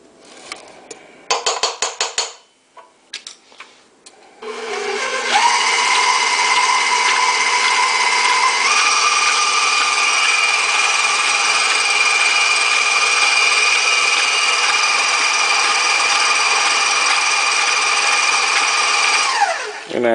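A stand mixer beats peanut butter blossom cookie dough. A few knocks and taps come first, then the motor starts and holds a steady, loud whir for about fifteen seconds before it winds down at the end.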